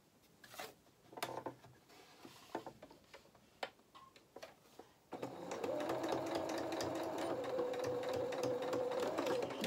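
A domestic sewing machine stitches fabric for a toy otter's head, starting with a few scattered ticks and clicks, then running in a continuous close, steady whir for the last several seconds.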